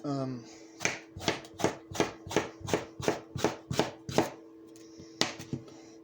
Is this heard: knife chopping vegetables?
yes